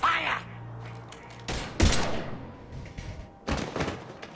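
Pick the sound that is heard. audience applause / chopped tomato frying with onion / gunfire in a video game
gunfire in a video game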